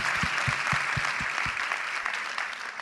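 Steady applause in a podcast studio, with several close hands clapping, a few low rhythmic thumps in the first second and a half, then a softer, even patter to the end.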